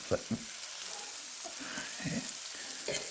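Bacon strips fry in a skillet with a steady, soft sizzle, punctuated by a few scraping clicks as the meat is pressed and moved.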